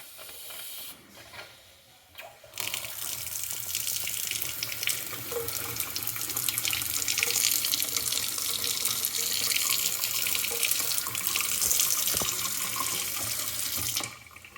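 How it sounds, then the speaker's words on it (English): Water gushes steadily from household faucets as a drained plumbing system refills during a water heater gas valve replacement, a loud continuous hiss lasting most of the clip after a brief quiet start. "wait for water to start coming out of the faucets"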